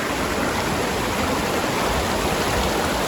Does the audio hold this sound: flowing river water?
yes